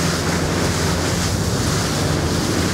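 Big ocean waves of a following sea roll under a Yellowfin 7000 Southerner boat at a bar crossing, a loud, steady wash of surf mixed with wind buffeting the microphone.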